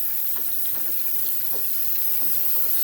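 Hot tap water runs in a continuous, loud, steady gush, filling a container to soak melted PEZ candy.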